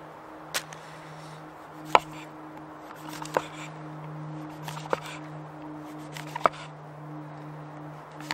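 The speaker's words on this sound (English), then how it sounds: "So let's chop up some veggies." Vegetables are chopped with an ESEE Gibson axe at a camp, giving about seven sharp, close thuds spaced unevenly over a steady low hum, with no talking.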